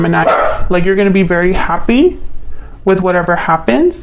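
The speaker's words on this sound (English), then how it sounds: "that was my dog" A pet dog barks in the background of a home while a person talks continuously over it, the barks mixed under the steady voice.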